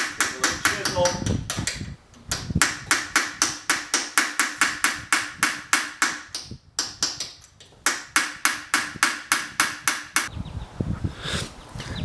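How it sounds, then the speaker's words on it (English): A hammer striking a chisel on a VW transaxle during disassembly, loud close metallic blows in a steady fast rhythm, with short pauses between runs of strikes. "the appropriate thing to do is to start beating on it with a hammer. So we can take a little chisel."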